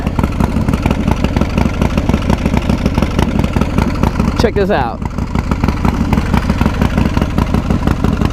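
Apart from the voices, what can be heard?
modified Harley-Davidson Fatboy engine idling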